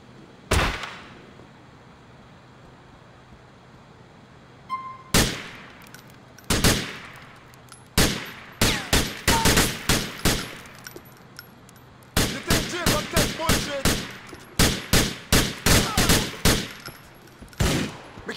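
Gunfire in GTA 4 during a PC story mission: a single sharp shot, then scattered bursts of loud, crisp rounds that build into dense, rapid volleys toward the end, with no talking.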